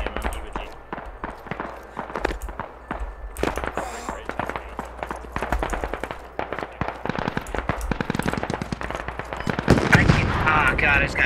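Gunfire in the military shooter Squad cracks in dense rapid volleys, near and loud, with heavier blasts toward the end and voices talking over it.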